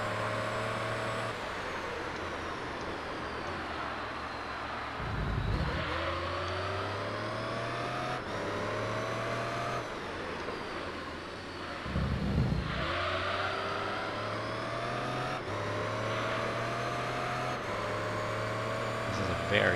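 A race car in Gran Turismo 3 roars as its engine climbs through rising gear sweeps, with a couple of short dips and shifts between pulls, steady and prominent throughout with no talk audible.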